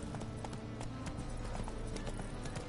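Horse hooves clip-clop at a steady gallop in a PS4 video game, a continuous rhythmic patter running the whole time over a dense background of game sound.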